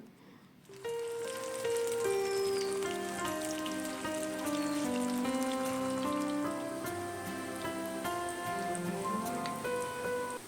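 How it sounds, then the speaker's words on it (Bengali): Dhoka lentil cakes fry in hot oil with a steady, close crackling sizzle that runs continuously, joined by soft tonal background music. "ধোকাগুলো যখন হালকা ফ্রাই হয়ে যাবে তখন কিন্তু তুলে নিতে হবে"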